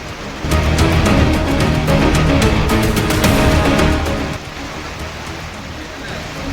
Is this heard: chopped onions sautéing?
no